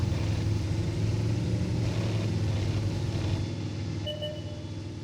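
A light tank in World of Tanks rumbles along with a steady low engine drone, then the engine eases off toward the end as a couple of faint beeps sound.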